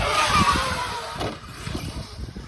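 An Arrma Kraton 8S RC car accelerating at full throttle, a high whining motor rush that is loud at first and then fades as it moves away, with scattered rattles and no talk.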